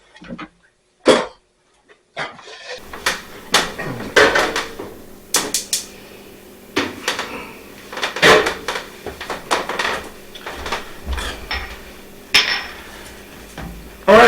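Roux and cream being mixed into asparagus soup in a pot, with utensil clanks and knocks against the pot coming in irregular bursts, fairly close, after a quiet start.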